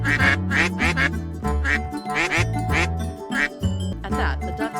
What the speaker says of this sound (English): At that, the ducks, who all had kept quiet, suddenly started quacking.